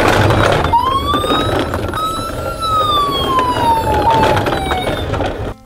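Toy ambulance siren wailing up and down in clear rising and falling sweeps, loud and close over a busy background, with no speech.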